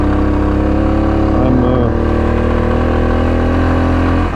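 A vehicle engine labours up a steep mountain road in third gear on the Ganga Choti route in Azad Jammu and Kashmir, a steady loud drone holding throughout with a slight pitch shift midway.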